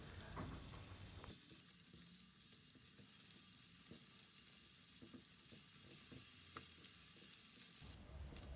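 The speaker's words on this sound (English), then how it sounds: "we'll flip the paneer or cottage cheese and we will saute the other side for another few seconds until they are done" Cubes of paneer sauté in hot oil in a pan, giving a steady, close sizzle and crackle that runs evenly throughout, with a few soft stirring clicks and no talking.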